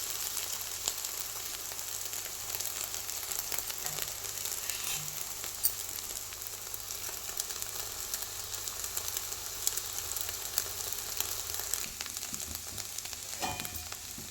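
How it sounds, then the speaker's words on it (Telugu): Egg frying in a pan toward golden brown, for egg fried rice: a steady close sizzle and crackle of hot oil throughout, with a brief scrape or clatter near the end. "మన ఎగ్ని ఇలా మంచిగా ఫ్రై చేసుకోవాలి"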